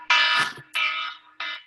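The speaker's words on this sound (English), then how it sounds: "Red alarm. That's the alarm for the boys to go to bed." Household alarm signalling bedtime for the boys, three loud electronic buzzing tones: a long first burst, a second of similar length, then a shorter third, each separated by brief silence.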